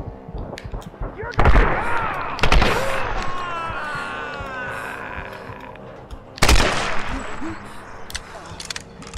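Gunshots in Tomb Raider: Definitive Edition, loud sharp blasts at intervals with echoing tails, layered over busy game effects and a voice talking.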